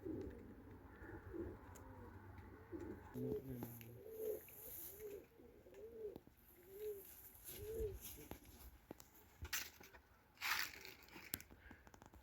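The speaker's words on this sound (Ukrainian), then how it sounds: "Сів голуб на город" A pigeon coos in a steady repeating rhythm, soft and rounded, against quiet outdoor background noise with a few faint clicks.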